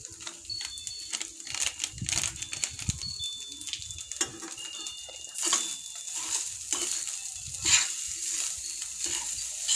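Yang chow fried rice stir-fried in a pan, with a steady sizzle under repeated scraping and clattering of the spatula against the metal. It is close and fairly loud and runs continuously with no talking.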